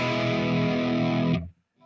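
An electric guitar played through the morning drive preset of a NUX MG-400 multi-effects unit rings out as a loud, sustained distorted chord that cuts off abruptly, followed by a faint trailing note.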